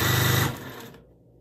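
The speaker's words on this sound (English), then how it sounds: "I'm going to sew 1/4 inch apart." A sewing machine stitches quilt fabric with a rapid, even mechanical whir for about half a second, then stops, leaving a faint fading hum.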